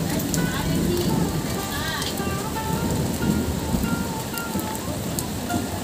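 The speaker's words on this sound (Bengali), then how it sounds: "বাইরে বৃষ্টি আর আমরা ঘরের ভিতরে আটকা পড়ে রয়েছি" Rain falls outside a house under construction, a steady, dense hiss filling the background while people talk and other voices rise and fall over it.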